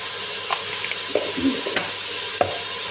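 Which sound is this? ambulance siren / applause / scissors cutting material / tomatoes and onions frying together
tomatoes and onions frying together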